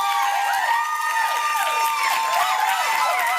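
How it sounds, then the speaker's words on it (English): A studio audience at a television dating show voting by applause breaks into sustained whooping and high cheering that rises and falls in pitch. The noise stays loud and constant throughout. "By applause."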